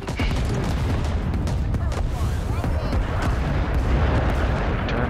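Gunfire in the Vietnam War shooter Rising Storm 2, fought around trenches and a rubber plantation at Cu Chi. Loud, rapid bursts of rifle and automatic fire crack continuously, with heavy booms layered underneath.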